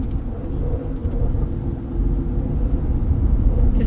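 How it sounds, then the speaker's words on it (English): A steady low rumbling and grinding drone from a 2012 Honda Pilot when turning the steering, continuous and fairly loud throughout, with no voices. "I don't know if it's a rubbing noise or a grinding noise"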